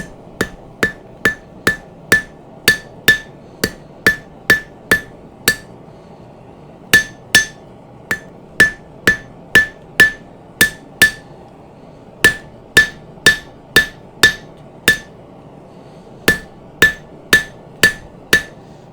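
A hammer strikes a knife blade tip being forged, ringing hits in steady rhythmic runs of about a dozen blows each, loud and close, separated by short pauses.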